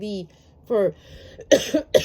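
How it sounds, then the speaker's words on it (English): Several harsh coughs come close together near the end, with a brief vocal sound earlier; loud and close. "see how I'm coughing"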